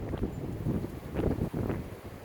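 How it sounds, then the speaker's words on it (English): Strong wind blows outdoors, steady and loud with gusty swells, buffeting the microphone with a low rumble throughout. "Hope this wind is not making too much noise. It's blowing pretty good."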